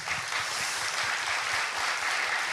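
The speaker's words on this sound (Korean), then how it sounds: "야, 박수." Studio audience applause on a Korean talk show, continuous dense clapping at an even level throughout with no talk over it.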